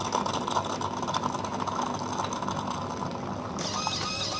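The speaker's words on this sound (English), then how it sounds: "So it is now rinsing the milk unit." A Kalerm Quarza coffee machine rinsing its milk unit: steady mechanical whirring and pumping with a rapid ratcheting texture and a hissing shift near the end, with no speech.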